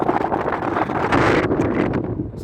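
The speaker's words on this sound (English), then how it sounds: "Rather windy tonight." Strong wind gusts buffet the microphone on a bridge over the River Clyde in Glasgow at night, a loud, continuous roar that swells in the middle, with no talking.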